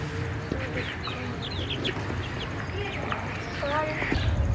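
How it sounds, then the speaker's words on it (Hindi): A two-month-old chick of a Nawab breeder line clucks and chirps in short, high calls scattered over steady farmyard background noise, with other birds faintly audible. "अभी ये 2 महीने का चूज़ा हो चुका है"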